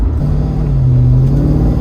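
A supercharged LS V8 in a Jensen Interceptor R restomod gives a deep, steady, close engine drone that swells slightly as it is opened up, with no voices over it.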